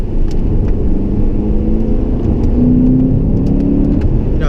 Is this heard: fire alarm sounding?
no